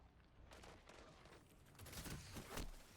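Pulse rifle bursts in the Destiny video game, a faint sequence of rapid clustered shots in short bursts that grows slightly louder near the end, with no talking.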